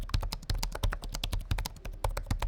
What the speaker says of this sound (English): that is an interesting feeling typing experience